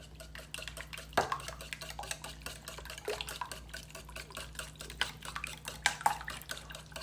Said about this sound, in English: So I'm gonna stir this and whisk it together.